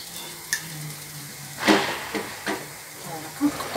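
Maakouda potato fritters go into hot oil and sizzle in short bursts, several quick crackling spurts over a low background hiss, close up.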